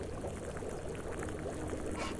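Running water splashes steadily as a frying pan is washed in the restaurant cooking simulator game Chef Life, a continuous pouring wash, loud and close.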